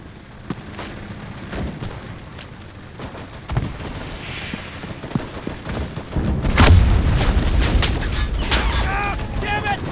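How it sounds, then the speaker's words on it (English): Artillery fire in the World War II shooter game Enlisted: a steady crackle of gunfire swells into loud, dense booming and rapid shots in the latter half, with voices calling out underneath. "Copy! Artillery on it. Artillery!"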